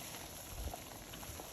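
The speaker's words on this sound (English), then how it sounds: "once the water is boiled" Water rolling at a rapid boil in a pot on the stove, a steady soft bubbling and hiss that carries on evenly throughout.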